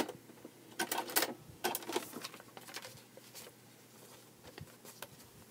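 A sewing machine stitches a quilt block in quick rattling bursts, stopping and starting in short runs that fade to lighter, sparser patter, close and fairly quiet with no talking.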